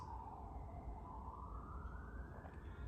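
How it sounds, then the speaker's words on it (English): A loud police siren wails steadily, its pitch sliding slowly upward over a constant low rumble of traffic. "Very loud siren to accompany us."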